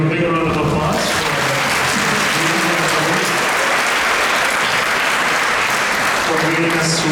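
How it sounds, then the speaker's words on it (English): Audience applause at a Sunday feast lecture on compassion at ISKCON Toronto, loud sustained clapping from a crowd filling most of the clip, with a voice speaking before and after it. "Can we give a big round of applause"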